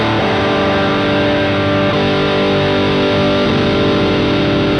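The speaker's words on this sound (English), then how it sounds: "So super heavy saturated fuzz." Thick, heavily saturated fuzz guitar tone from a fuzz pedal, loud and sustained, with held chords changing a couple of times and a dense, buzzing texture throughout.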